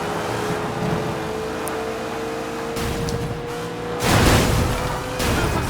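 Car engine in Sleeping Dogs during the Victoria Peak races, a steady droning hum that surges louder near the end as the car accelerates, heard alone without talk.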